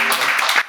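A church congregation breaks into a short, brisk burst of applause that lasts under a second and cuts off abruptly.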